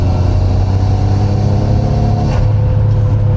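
A Nissan Stagea fitted with a GTR engine revs hard on the road, a loud, close, steady engine drone with a throaty low hum throughout, pitch shifting slightly partway through.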